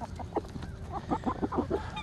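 A series of soft clucks from chickens close by, quick and evenly spaced over a faint background.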